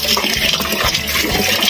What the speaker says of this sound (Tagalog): Ayan na po, malakas na rin ang tubig.